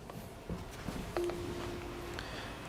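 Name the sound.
Akuvox R20 intercom call button pressed, call tone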